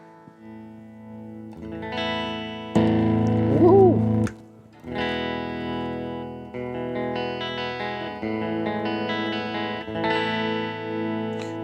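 An electric guitar played through an amp on a super reverb setting rings out in sustained chords and single notes, loud and close, with one short shouted exclamation partway through.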